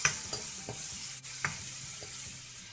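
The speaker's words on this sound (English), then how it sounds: "Let it fry in the oil for a while" Garlic, onion and jalapeno fry in oil with a soft, steady sizzle, and a few light utensil taps and stirs break through at irregular intervals, close and fairly quiet with no voices.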